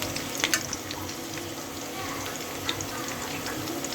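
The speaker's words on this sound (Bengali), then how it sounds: "এখন আমি পেঁয়াজটা একটু ভাজবো।" Onions frying in a pan with a soft, continuous sizzle and occasional light clicks of stirring, moderately quiet and close, no voices over it.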